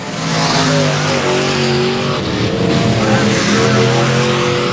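Race cars roar past on the final lap at I-37 Speedway, a loud, sustained blend of engines with rising and falling pitch as the pack passes close by.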